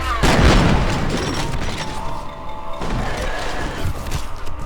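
Heavy enemy gunfire and explosive booms in the shooter game F.E.A.R. on console, a loud blast up front followed by continuing shots and thuds, with a voice talking over the action.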